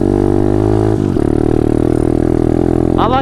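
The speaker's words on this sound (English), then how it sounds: "And then I just revved." Pit bike engine on a forest trail, close and loud, droning steadily with a short dip in pitch and then a quick rising rev near the end.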